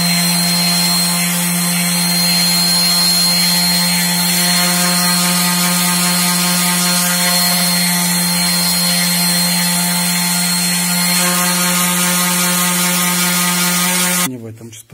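An orbital sander running at a low speed setting, holding a steady, loud whirring drone with a constant pitch and a faint high whine, cutting off at the end.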